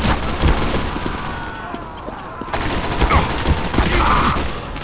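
Sniper rifle shots crack repeatedly amid a busy video-game firefight against bots, sharp reports scattered over constant loud battle noise with a brief quieter lull midway.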